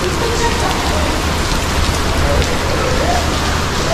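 Steady rain falls outdoors at a mosque complex in Malaysia, a dense continuous hiss of drops on surfaces filling the whole stretch, with faint voices underneath.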